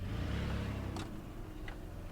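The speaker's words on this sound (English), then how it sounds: "It's definitely got an exhaust leak." A Nissan Z31 engine with an exhaust leak runs steadily nearby, giving a low, throbbing rumble with two brief, sharper hissy puffs partway through.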